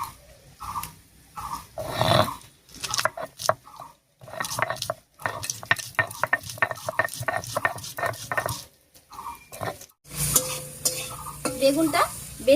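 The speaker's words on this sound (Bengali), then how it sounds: "এই অবস্থায় বেগুনটা ভাজা ভাজা হতে থাক" Eggplant fries in a pan, giving crackling sizzle and stirring scrapes in uneven bursts with short pauses between them, and a denser, louder stretch of frying near the end.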